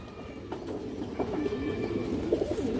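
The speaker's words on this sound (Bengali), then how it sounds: "ছোট ছোট কবুতর দর্শক" Young black pigeons coo softly in a steady low murmur, faint and continuous, with no voices over them.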